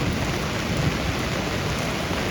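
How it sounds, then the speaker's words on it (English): Heavy rainstorm pouring steadily at a campsite during family overland travel, a dense, loud, unbroken hiss of rain with no voices. "All right, so another big rainstorm."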